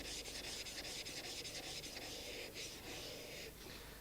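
A new steel chisel rubbed back and forth on an oiled sharpening stone to remove the burr, a steady rhythmic scraping and rasping, close and continuous, with no talk.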